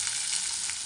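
Chopped onion frying in a pan, a steady close sizzling hiss throughout with no talk and no break.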